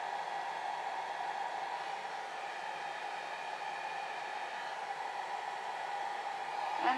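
A hair dryer blows steadily across alcohol ink on a level painting surface, a constant close whooshing hiss that holds even from start to finish with no talk.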